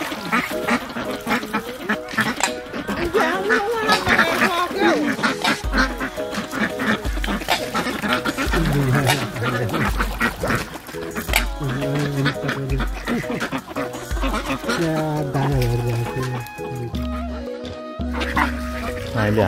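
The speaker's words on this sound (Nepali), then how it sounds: "अहिले हाँसलाई चारो दिइसक्यो अब यता" Ducks in Richmond, Tasmania, quack loudly and continuously while being fed, a dense close chorus of overlapping honks with occasional lower calls and brief voices mixed in.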